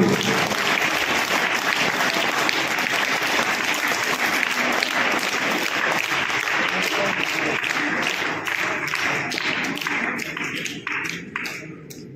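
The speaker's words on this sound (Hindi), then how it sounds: "तो इस कामयाबी के लिए एक बार जोरदार तालियां आप लोग" Loud applause from a school gathering celebrating 100% class 10 and 12 CBSE exam results: many hands clapping in a dense, continuous wash that holds strong for most of twelve seconds, then thins into scattered claps.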